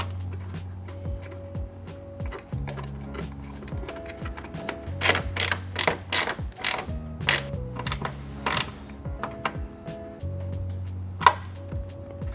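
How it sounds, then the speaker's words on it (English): A ratchet tightening bolts during an interior LED install on a 2nd-gen 2009-2015 Honda Pilot, with repeated clicking ratchet strokes and short metallic bursts over a steady low hum, close and moderately loud. "all you have to do is reinstall the bolts here"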